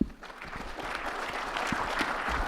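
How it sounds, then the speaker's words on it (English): Steady applause from a conference audience fills the room, sustained and moderately distant, with no talking over it. "Please give them a warm round of applause."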